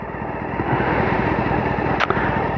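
Honda Hornet motorcycle engine running cold, idling a little low: a steady, fairly quiet rumble through the standard exhaust, close by and continuous, with a brief click near the end.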